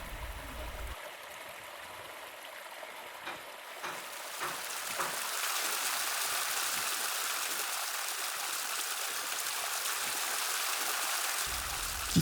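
Clear, cold water from Mount Dempo flowing steadily to irrigate a lettuce garden, a continuous rushing and gurgling stream that swells louder after a few seconds and holds alone without voices.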